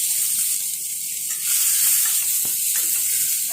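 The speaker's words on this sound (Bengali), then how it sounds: "আলুগুলি ভালো করে ভেজে নেব।" Boiled potatoes hit hot oil seasoned with cumin seeds, giving a steady, close sizzling hiss that swells slightly partway through, with no voices.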